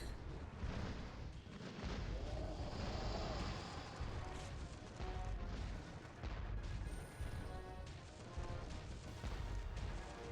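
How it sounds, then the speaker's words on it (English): A volley of about ten cannons fires in the Xbox pirate game Pirates: The Legend of Black Kat, rough booming blasts and crashing impacts rolling on in bursts, quite faint overall. "you don't want to get hit by that volley of like 10 cannons"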